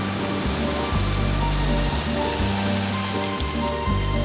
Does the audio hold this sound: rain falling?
yes